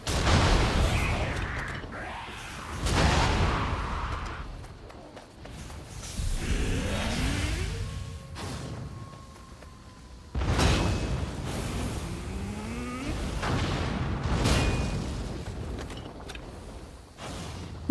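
Cannon fire from a video game booms in several heavy blasts spread across the stretch, with whooshing and mechanical game effects between the shots.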